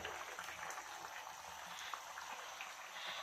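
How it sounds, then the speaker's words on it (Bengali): A pot of fish curry simmers at a steady boil, giving faint, continuous bubbling and popping close by with no talk over it. "ঝোলটা ফুটছে"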